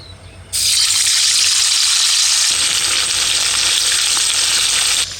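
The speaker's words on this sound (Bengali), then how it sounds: "মাছটা ভাজা হতে থাকুক" Salted, turmeric-rubbed catla fish hits hot mustard oil in a wok. A loud, bright sizzle bursts in after a brief quiet moment, then holds steady and close until the end.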